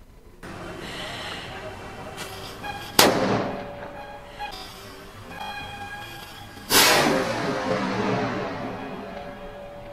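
Two sharp, loud bangs a few seconds apart from a homemade Diwali firecracker pistol, each ringing out with a short decaying tail over a low background hum.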